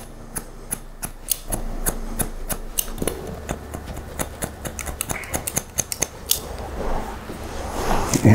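Scissors snip rapidly at hair to add texture during a 90s-style men's haircut, making a quick, close run of crisp metallic cuts that crowds together toward the end, with no talking.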